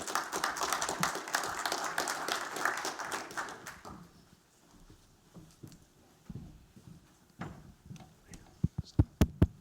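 A pitch competition audience applauds a team, with dense, even clapping for about four seconds that fades into scattered claps and quiet room noise, then a few sharp taps close by near the end.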